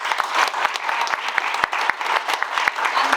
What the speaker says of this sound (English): can you all give yourselves a massive round of applause?